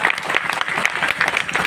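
An audience at a college greenery festival in Hazaribagh breaks into brisk, dense applause, many hands clapping together in a steady, close, loud burst.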